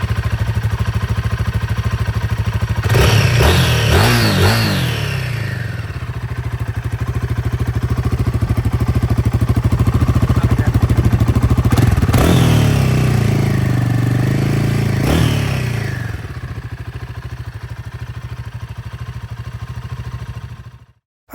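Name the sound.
motorcycle engine revving, Triumph factory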